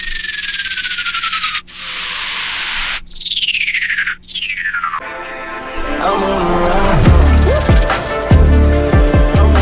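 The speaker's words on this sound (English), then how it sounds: "Another good thing to use is called downlifters." Four descending whooshing sweeps fall in pitch one after another, then full electronic music kicks in with a heavy low beat.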